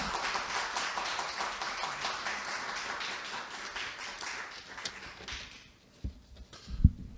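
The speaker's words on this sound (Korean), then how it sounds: "우리 한번 박수로 격려하는 마음으로 크게 박수하겠습니다" At a leadership conference, a hall audience claps in a steady burst of applause that fades after about five seconds, followed by a few isolated thumps and taps in the quiet.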